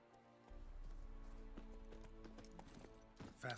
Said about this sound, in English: Roach! Roach, where are you, my teleporting horsey?